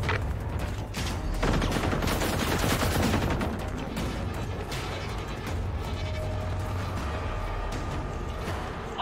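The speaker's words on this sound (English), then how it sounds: "I got a tier 5 fucking shotgun!" Rapid bursts of gunfire from a tier 5 shotgun and other weapons crackle loudly in a video game firefight, dense and close for the first few seconds before easing into steadier background noise.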